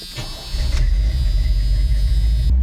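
A square-body pickup truck with a budget homemade exhaust and a possible header gasket leak drives off, its deep engine rumble rising quickly and then holding steady and loud up close.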